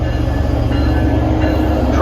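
Train 2154 bound for Washington pulls into a Boston-area station, a loud, steady low rumble of engine and rolling cars close by, with a voice talking over it.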